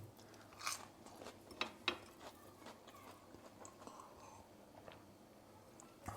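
Someone eats crunchy fried mac and cheese bites, with soft, close crunching and chewing at an uneven pace over faint room noise.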